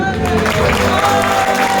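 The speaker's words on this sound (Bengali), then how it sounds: "আমি আপনাদের সকলকে বলবো হয়ে যাক জোরে একটি করতালি" Audience at a stage magic show applauding loudly, a dense continuous wash of many hands clapping with faint crowd noise throughout.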